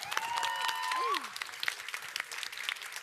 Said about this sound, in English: Can we give them another round of applause, please?